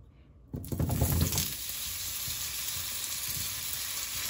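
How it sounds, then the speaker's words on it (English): Cut potatoes drop into hot oil in a pan with a sudden crackling burst, then settle into a steady, close sizzle that carries on evenly to the end. "This will take a little bit time to fry."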